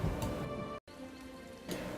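Steady rain falls on a shoreline in a fantasy video game, a soft continuous hiss with a brief dropout of total silence partway through.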